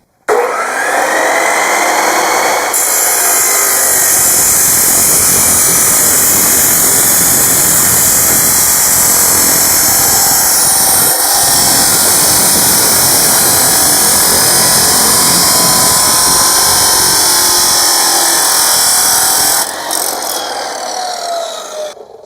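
A saw cuts through stainless steel exhaust piping, a loud, continuous high-pitched grinding whine that runs steadily for about twenty seconds before cutting off.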